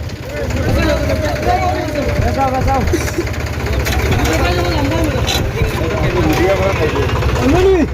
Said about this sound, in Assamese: দোস্ত এতিয়া মানে ট্ৰেক্টৰখন আহিছে খাবৰ কাৰণে